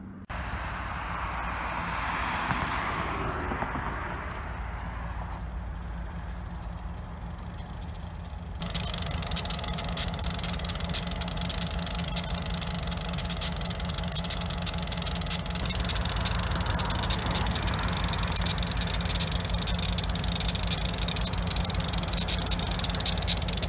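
A steady, low locomotive engine drone idles continuously throughout in Grand Rapids, with constant rumble and broadband noise, growing slightly louder midway; no voices.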